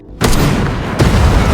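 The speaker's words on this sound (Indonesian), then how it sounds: "Akibat ledakan tersebut," Explosion of a guard boat shot in an action film, a sudden loud boom with a heavy low rumble, followed about a second later by a second deep blast that rolls on and sustains to the end.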